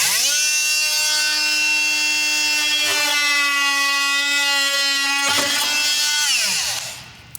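Oscillating multi-tool cutting wood, a loud steady high-pitched buzzing whine that holds for several seconds, dips briefly partway through, then winds down as the trigger is released.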